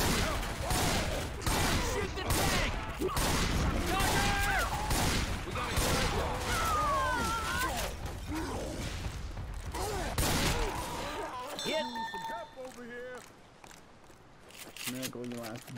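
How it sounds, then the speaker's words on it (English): Rapid bursts of video-game gunfire pour onto a tank in a dense, continuous barrage with shouting voices over it, then break off near the end into quieter mechanical sounds and tones. "Shoot the tank! Keep shooting!"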